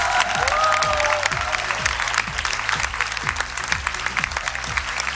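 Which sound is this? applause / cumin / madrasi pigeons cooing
applause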